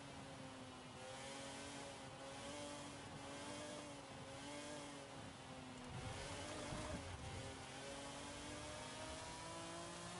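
Forza Horizon 5 Formula One car engine droning steadily at high revs, a continuous buzzy tone with a brief surge in loudness partway through, no talking.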